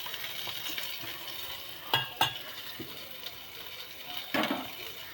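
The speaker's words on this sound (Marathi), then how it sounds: "बोंबील फ्राय करूया" Bombil (Bombay duck fish) frying in a pan: a steady low sizzle throughout, with a few sharp clinks and scrapes of a utensil against the pan, no talking.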